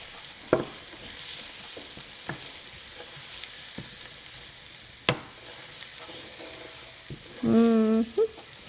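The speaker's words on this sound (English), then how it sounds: "So we're gonna let it fry for about 2 minutes." Garlic frying in a pan while lasagna is being cooked gives a soft, steady sizzle with occasional clicks and scrapes, and a brief voice is heard near the end.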